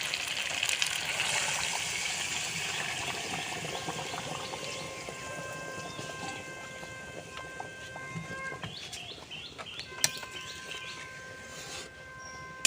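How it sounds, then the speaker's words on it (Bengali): Hot water poured into a pan of simmering mutton curry, a steady rushing gush that fills the first half and then eases off, close and fairly loud. "আমি এবার জল দিয়ে দেব। আর মাংসের জন্য কিন্তু আমি গরম জল নিয়েছি।"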